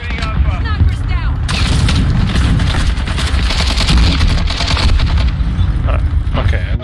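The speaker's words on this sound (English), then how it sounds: "I just got killed by a fucking grenade launcher. Or rocket launcher." Constant loud gunfire and blasts in Call of Duty: Modern Warfare 2 multiplayer, with a heavy explosion from a grenade or rocket launcher buried in the sustained roar of battle.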